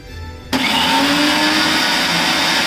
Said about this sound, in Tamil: மிக்ஸி ஆன் பண்ணி அரைச்சிடலாம்.